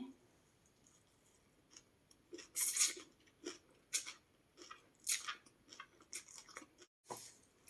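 Crispy crackers eaten with a mixed seafood salad, giving quiet close-up crunching bites in irregular bursts with soft chewing between them.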